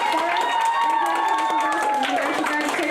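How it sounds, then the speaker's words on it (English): A crowd applauding newly declared graduates at a 2023 senior graduation ceremony, steady clapping blended with cheering and chatter, while music plays over it throughout. "Please give them a round of applause."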